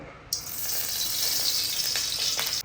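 Mustard seeds, onion and curry leaves hit hot refined oil for a potato poriyal, setting off a sudden bright hissing sizzle that holds steady for about two seconds before cutting off.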